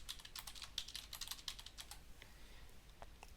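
A password is typed on a computer keyboard while setting up MySQL 8.0 on Windows 10: quiet, quick, irregular key clicks in close succession, fading to sparser taps near the end.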